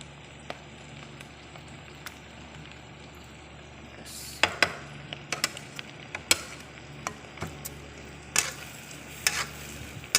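Butter melts in a pan for carbonara, giving a steady close sizzle and bubbling hiss, with scattered sharp clicks and taps of a utensil against the pan in the second half.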